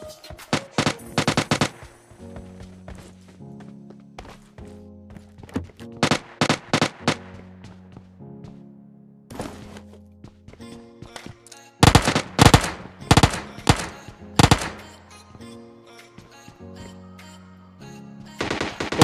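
Bursts of automatic gunfire in PUBG Mobile Lite as an enemy is knocked down, rapid rattling volleys separated by short pauses, loud and close, with heavier bursts later.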